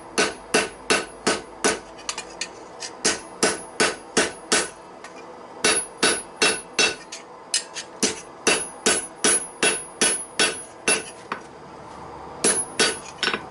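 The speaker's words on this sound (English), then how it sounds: "and then we're going to hammer it that way." A hammer strikes metal while a flint striker is forged, delivering sharp ringing blows in quick regular bursts, with brief pauses between runs; close and loud, no talk.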